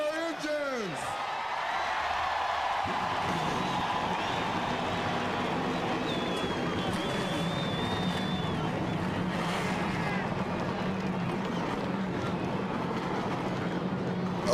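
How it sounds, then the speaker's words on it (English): Old superspeedway stock car engines drone together at Daytona during the 2003 Pepsi 400, a continuous loud, wind-buffeted roar that holds steady for the whole stretch, with commentary voices faintly underneath. "you will definitely hear that beautiful sound of these old super speedway cars at Daytona as well"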